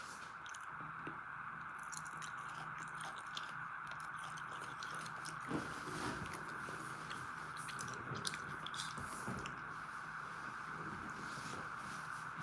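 Someone chews a big mouthful of food close to a microphone, with wet squishing and soft crunching over a constant background hum, during a live evening broadcast.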